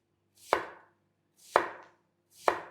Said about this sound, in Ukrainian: І ось так нарізаємо.